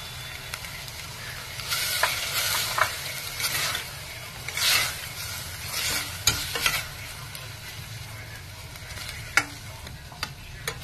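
Curry leaves and ginger-garlic paste sizzle steadily in a hot pan, with a continuous frying hiss broken by several sharp crackles and intermittent scraping stirs, close and moderately loud.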